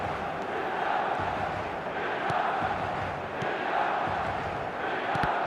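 Stadium crowd in the eFootball 2026 football video game, a steady loud roar of massed fans with swelling chants, continuous throughout without clear speech.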